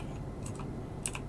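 A few quick clicks of a mechanical computer keyboard being typed on, two short bursts of keystrokes close to the microphone over a low steady hum.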